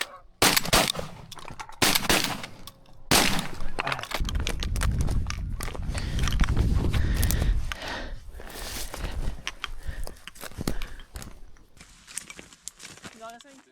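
Ducks or geese honking as a flock comes into decoys during a late-season waterfowl hunt, mixed with sharp shotgun blasts, rustling movement and hunters talking nearby.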